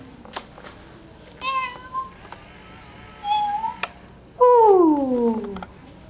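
A cat meows several times near a five-month-old baby, with short calls followed by a longer, louder drawn-out meow. The room is otherwise quiet.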